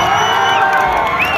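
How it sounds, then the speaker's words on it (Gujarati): A large crowd cheers the police loudly with sustained shouts and whoops, a dense wall of voices that stays constant throughout the short burst. "રાપરના તમામ પોલીસો માટે જોરદાર તાળી થઈ જાય"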